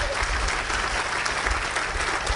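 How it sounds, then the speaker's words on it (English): An audience at a mayor's budget address breaks into dense, steady applause, many hands clapping at once, loud and close throughout with no break. "You can clap now."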